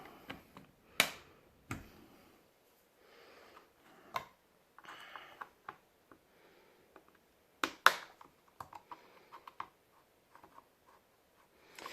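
Sharp, scattered plastic clicks and snaps as clips release while a Kobo Touch N905C e-reader's plastic case is pried open by hand, irregular and close, with quiet gaps between.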